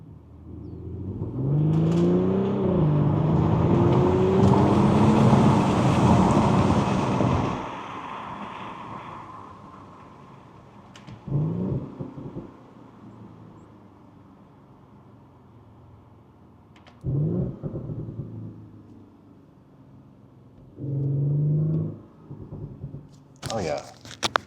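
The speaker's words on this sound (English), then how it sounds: "A lot of turbo noise." A BMW X3 M40i or Audi SQ5 SUV engine revs hard with rising turbo whoosh for several seconds, then settles into shorter bursts of throttle with quieter gaps, heard from inside the cabin.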